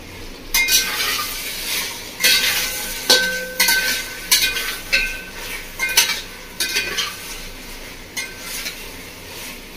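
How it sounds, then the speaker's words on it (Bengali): Mutton frying with turmeric and Kashmiri chili powder for a Bengali village-style kosha, with a steady sizzle under repeated scraping and clinking stirs of a metal spatula against the pan, close up and without speech. "বন্ধুরা খুব ভালো করে কষিয়ে নিয়েছি, মশলা থেকে তেল ছেড়ে দিয়েছি।"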